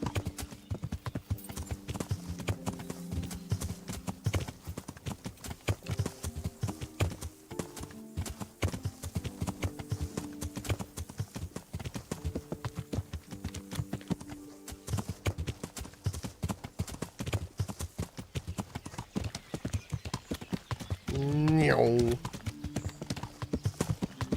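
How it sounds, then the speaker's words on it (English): Horse hooves clip-clop in a steady rhythmic gait while riding through woods in the video game Kingdom Come: Deliverance, continuous and close, with a brief whinny near the end. "Trying to read chat and ride a horse through the woods is a thing."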